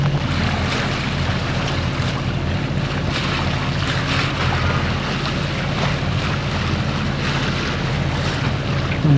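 A sailing boat cruises at sea off Orkney under engine with reduced revs, helped along by the wind. A low, steady engine drone sits beneath continuous wind noise and rushing waves, with no talk.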